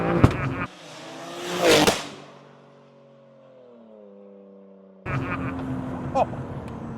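A tuned BMW with hybrid turbos, catback exhaust, downpipes and a stage 2 map revs sharply at a car show, climbing to a loud peak, then easing into a fading tone before noisy crowd sound returns.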